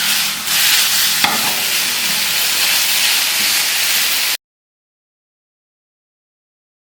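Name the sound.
chicken frying and being stirred with spices in a pan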